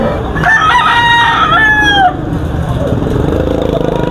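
A gamecock stag crows loudly and close at a rooster market, one long drawn-out call over a busy background murmur that continues after the crow ends.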